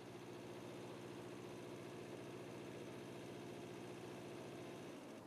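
A canal narrowboat's diesel engine driven at full throttle forward on the Staffordshire and Worcestershire Canal, a steady, loud, close chugging throb that holds evenly throughout and falls away only at the very end.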